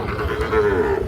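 At a cattle market, a cow lets out a drawn-out, moderately loud low moo amid a dense background of crowd noise and distant voices.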